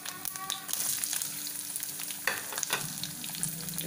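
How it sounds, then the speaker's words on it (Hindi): Chopped onion frying in hot oil with kalonji, cumin and curry leaves for a cabbage and egg dish, a steady close sizzle with a few scraping stirs and a sharp crackle near the middle, no talk. "अब हम इसमें डालेंगे कटी हुई प्याज"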